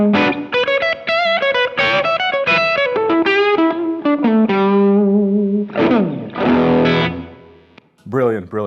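An electric guitar plays through a pedalboard of effects, its heavily distorted, chorused tone sustaining bright notes and sliding phrases, with short pauses and a final brief burst.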